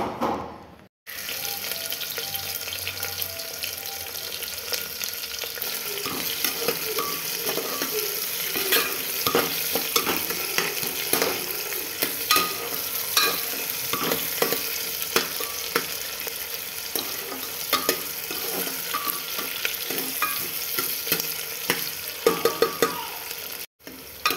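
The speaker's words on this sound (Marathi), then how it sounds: "मी इथे कांदा आणि कढीपत्ता ॲड केलेला आहे" Chopped onion and curry leaves frying in hot oil in a pan, a steady close sizzle running throughout with repeated scraping and stirring of the spoon against the pan.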